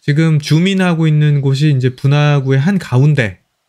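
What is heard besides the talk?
No distinct noise like a dog, phone or traffic.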